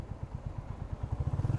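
Motorcycle engine on a Hyderabad to Goa road trip, a low, steady throbbing pulse that quickens and grows a little louder toward the end, heard faintly with no talking.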